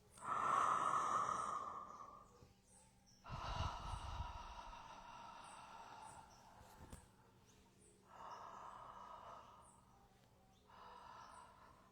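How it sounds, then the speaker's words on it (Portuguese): Slow, deep breaths drawn through the mouth come in long, rushing swells like ocean waves, alternating with quieter pauses, close and alone without talk. "por estar fazendo essa respiração pela boca, é como se você estivesse fazendo um som de ondas do mar"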